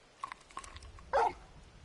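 Torgal, the wolfhound companion in Final Fantasy XVI, gives a few short, soft barks and yips close by, faint and brief with quiet gaps between them.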